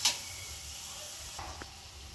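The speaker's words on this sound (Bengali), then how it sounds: "সর্ষে পোস্ত আর কাঁচা লঙ্কা বাটাটা দিয়ে দিলাম। এটা ভালো করে কষিয়ে নিয়ে জল দিয়ে দেবো।" Mustard, poppy seed and green chilli paste frying in a pan for a potato, pointed gourd and drumstick curry, giving a soft, steady sizzle with a couple of faint stirring clicks.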